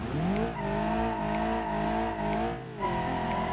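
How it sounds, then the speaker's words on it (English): An Ibishu Covet car spins its wheels in a driving video game, a loud, sustained engine roar and tyre squeal that rises and wavers, dips briefly near the end, then surges again, with no talking. "Man, the wheel spin."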